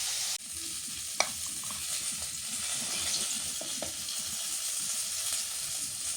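Fish fries with onions in a pan, giving a continuous bright sizzle with occasional light scrapes and taps of a spatula; a steady close hiss without speech.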